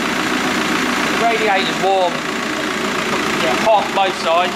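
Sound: VW T5 1.9 TDI engine idling

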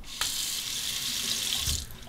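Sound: hot tap water running over a razor

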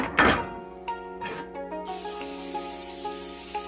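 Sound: cooking spray sprayed into a pan

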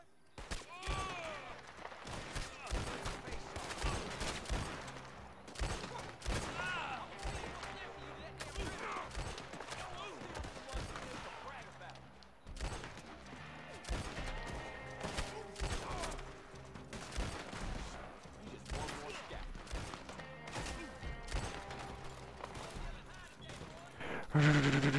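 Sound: gunfire in a video game

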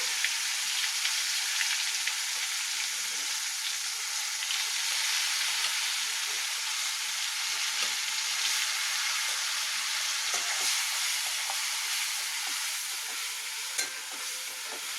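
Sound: spice paste frying in oil with nigella seeds

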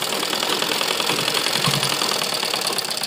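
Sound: sewing machine stitching a kurta sleeve

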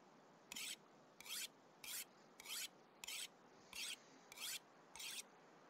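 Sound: sharpening a tool in a video game

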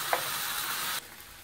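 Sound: bacon sizzling in frying pan

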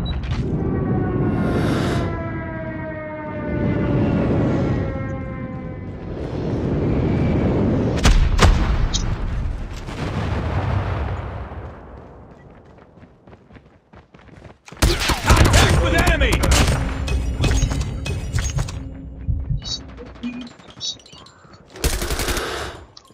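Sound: gunfire and airstrike in Call of Duty video game

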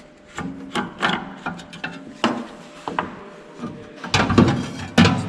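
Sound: unscrewing a disc from a KUHN AXIS fertilizer spreader

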